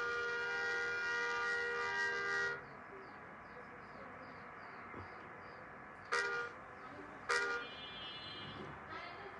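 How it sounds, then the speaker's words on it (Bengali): A bus horn in a driving video game gives a long, loud, steady honk, then goes quiet. Two short, sharp honks follow later over faint engine noise. "যদি আমি এদিক থেকে হর্ন দিই ওরা ওদিক চলে যায়"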